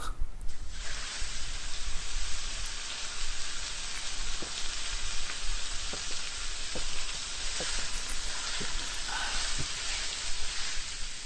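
A half-cooked fried egg sizzling in a pan in the video game Memory Girl: The End, a steady loud frying hiss running throughout with faint ticks and pops, no voices.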